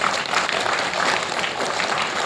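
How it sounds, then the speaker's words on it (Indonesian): Applause from a crowd at a company Halal Bihalal gathering, continuous dense clapping at steady volume that fills the room. "Tepuk tangan dulu buat kita semua."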